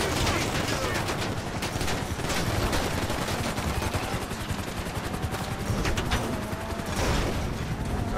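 Gunfire in GTA Online, dense overlapping bursts of automatic shots and crackling reports that continue without a break, loud and close, with game engine and ambient noise underneath.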